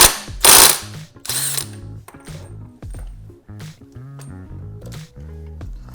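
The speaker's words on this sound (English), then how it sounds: "Now let's go ahead and get that front sprocket off." Rapid clicking ratchet strokes from a wrench loosening the front sprocket of a dirt bike, in short close bursts with brief pauses and some metallic clatter between them.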